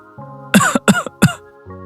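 Three harsh coughs in quick succession, loud and close, with a low steady hum before and after.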